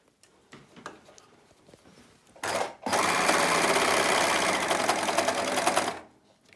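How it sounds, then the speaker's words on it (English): An overlocker sewing machine stitches a fabric face mask, with quiet handling noises first, then a short burst and a loud, steady whirring run of about three seconds that stops abruptly. "I don't try and run over my pins with my overlocker because it really won't like that."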